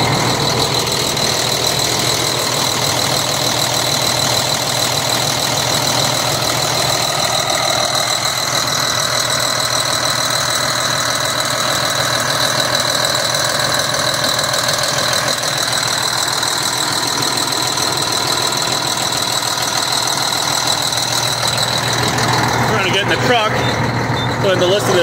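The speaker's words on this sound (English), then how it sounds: "It's probably colder than that because the pickup truck's running" A pickup truck engine idles nearby in a steady, constant drone with a slight knocking edge, running unchanged for the whole stretch, with brief clatter near the end.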